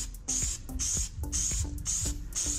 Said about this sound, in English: whenever you spray this chemical on there